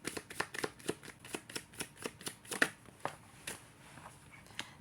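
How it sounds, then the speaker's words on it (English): Tarot cards being shuffled by hand, a steady run of soft riffling slaps at close range, about a dozen quick strokes, quiet and with no talking. "One card for the collective, please."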